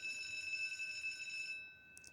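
A school bell rings in a steady, high, continuous tone for about a second and a half, then cuts off abruptly, leaving near silence with a faint tap.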